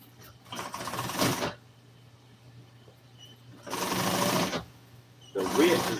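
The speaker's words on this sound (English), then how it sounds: "I'm just gonna sew it as close as I can" An upholstery sewing machine stitching car interior trim, running in three separate bursts of rapid mechanical chatter with quiet pauses between them and a low steady hum underneath.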